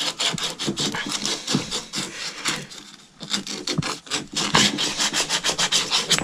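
Copper pipe fitting scuffed with an abrasive before soldering, a rapid run of rasping rubbing strokes, close and loud, with a short pause midway.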